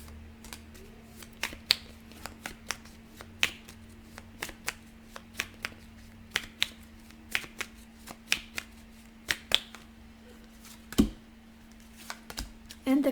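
Tarot cards shuffled by hand give a steady run of crisp riffling snaps and soft card slaps, close and moderately loud, with a low steady hum underneath.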